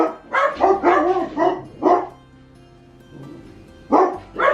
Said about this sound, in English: It's that time of the night when cats are out and about and dogs know and will bark.